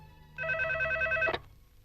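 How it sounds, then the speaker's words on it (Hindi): A telephone gives a single electronic ring lasting about a second, clear and fairly close, then falls silent, with no one talking. "रिंग हो रही है"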